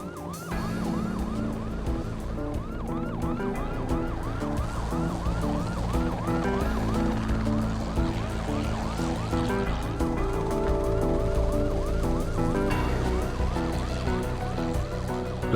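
Police car sirens wail during a high-speed chase of a suspect in a pickup truck, with a helicopter overhead: steady, rapid rising-and-falling whoops repeat throughout, loud and continuous over a dense low rumble of engines and road noise, with no talking.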